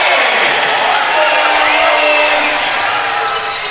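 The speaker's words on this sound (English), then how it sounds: "I think our microphone's overmodded with the crowd noise." A roaring basketball crowd in a college gym drives the microphone into overload, a dense, loud, distorted wash of cheering that holds steady for several seconds.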